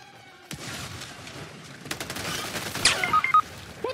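Gunfire in the video game Helldivers 2 breaks out in a sudden burst, then continues as rapid, uneven volleys of shots mixed with impacts, growing louder and denser toward the end.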